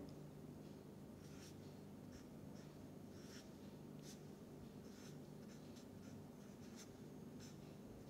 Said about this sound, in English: So now let me first write the structure of acetone.